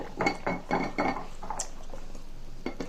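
A lid clinks onto a container of amla in a home kitchen, with several sharp metallic and glassy clatters in quick succession, close and fairly loud, then a quieter tap near the end.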